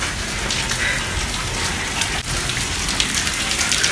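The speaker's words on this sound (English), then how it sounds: "It's raining hard out here" Heavy rain pours down continuously, a dense loud hiss of drops pattering on surfaces, close and unbroken throughout.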